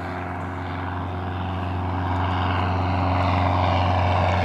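A propeller airplane flies by at a fly-in, its steady engine drone and droning hum growing gradually louder as it approaches.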